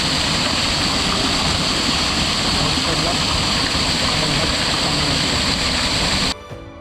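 Loud, steady rush of a rain-swollen waterfall stream near Koynanagar filling the whole clip, pouring hard without pause, cutting off abruptly near the end.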